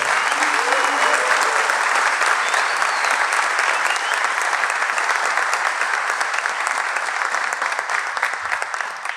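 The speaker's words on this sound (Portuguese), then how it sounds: "Uma grande salva de palmas para o Rui, nas tubas." Loud, sustained applause from a crowd at a philharmonic band concert, dense clapping that continues for the whole stretch and tapers only slightly at the end.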